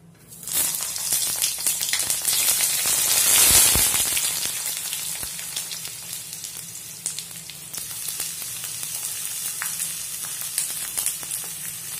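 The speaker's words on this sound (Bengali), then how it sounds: "এখন বেগুনগুলোকে ভেজে নেব।" Eggplant frying in hot mustard oil in a wok gives a steady, close sizzle that holds throughout, swelling briefly near the start and then settling into a continuous crackle.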